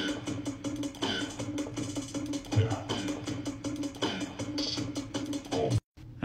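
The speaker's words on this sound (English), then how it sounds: "with all the percussion loops together" Layered percussion loops from an electronic beat play together, a dense busy pattern of hi-hats and drum hits at moderate level, cutting off briefly near the end.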